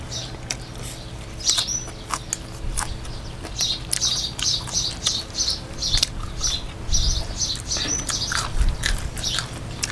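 Small birds chirp and tweet outdoors in a rural setting, with short high calls repeating irregularly across the clip over a low background rumble. No one speaks.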